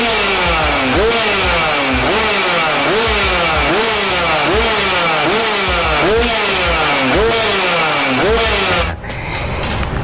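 A motorcycle engine revs repeatedly in a steady rising-and-falling cycle, loud and close, before cutting down near the end.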